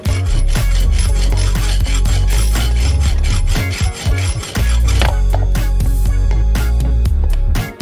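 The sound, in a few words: shortening a mounting bolt for a smartphone holder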